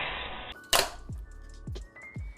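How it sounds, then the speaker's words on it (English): Small objects dropped onto a hard surface, a couple of sharp near thuds and clatters with a brief rattle, alone without talk. "Here I go dropping things again"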